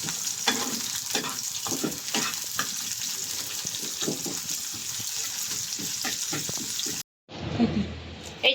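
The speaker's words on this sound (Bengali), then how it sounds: "এই যে শুকনো মরিচ ভাজলো পিঠ তেল সয়াবিন তেল না সয়াবিন তেল দিয়ে আচ্ছা দেখি পেঁয়াজ ভাজলো" Dried chilies and onion fry in soybean oil, a loud steady close sizzle with stirring scrapes throughout, cutting out briefly before resuming with low rumbling noise.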